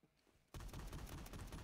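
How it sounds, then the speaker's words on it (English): Automatic gunfire from the video game Phantom Forces starts abruptly after a quiet moment and continues as a dense, rapid stream of shots, loud and unbroken to the end. "Oh, we're shooting."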